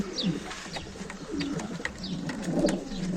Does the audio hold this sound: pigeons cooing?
yes